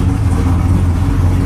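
A 2007 Trailblazer SS with a supercharged LSA engine idles loud and close, a steady low rumble with no talking.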